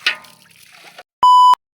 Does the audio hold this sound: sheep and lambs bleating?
no